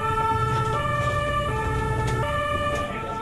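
An ambulance siren wails loudly in a steady two-tone alternating pattern, close by, over low road rumble from the moving emergency vehicle.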